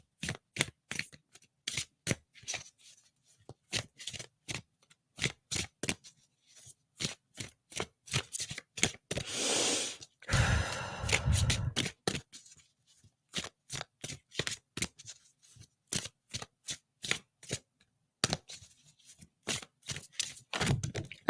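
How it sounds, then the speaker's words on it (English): Tarot cards are handled up close: a long series of sharp, separate slaps and flicks as cards are cut and laid down, broken by a dense riffle shuffle near the middle, all fairly quiet with no talk. "Let's pull some more cards."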